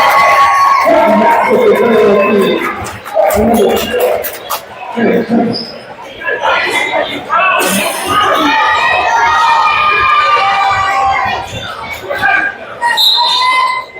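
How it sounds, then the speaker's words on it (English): Basketball crowd in a gym for St. Louis Saints versus Nederland, loud shouting and jeering over a non-call in bursts, with ball bounces and close commentary voices under and between the noise. "Crowd getting really upset over there."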